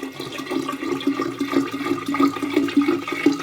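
Homemade cider sloshing and pouring into a container of apple cider vinegar culture, a steady watery gush with gurgling splashes that continues throughout.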